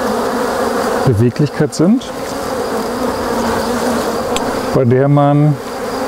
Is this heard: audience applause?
no